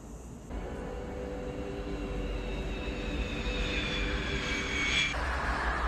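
Airplane flying over in the 1995 movie Heat, a broad engine roar that swells in after a quiet start and grows steadily louder, with a rising whine near the end, no talk.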